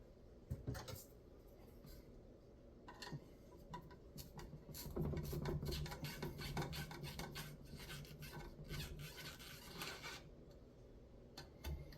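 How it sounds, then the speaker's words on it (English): Steady scraping and rasping of a regular screwdriver working Stratocaster pickup screws loose, continuous close-up metallic grinding with small clicks, growing a bit louder midway. "I prefer to use just a regular screwdriver"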